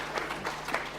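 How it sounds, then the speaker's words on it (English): Audience clapping at a savings and credit cooperative summit, a brief burst of dense, steady applause from a crowd, moderately loud with no talk over it. "Give a clap to"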